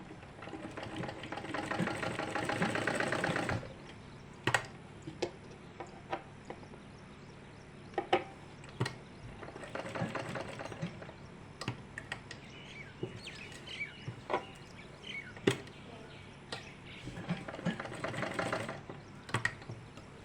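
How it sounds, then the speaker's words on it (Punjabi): A sewing machine stitches the folded hem of a kameez shirt, running in three separate bursts of steady whirring with quiet handling clicks and taps between them. "ਇਸੇ ਤਰ੍ਹਾਂ ਆਪਾਂ ਦੂਸਰੀ ਸਾਈਡ ਤੇ ਵੀ ਸਲਾਈ ਲਗਾਣੀ ਹੈ"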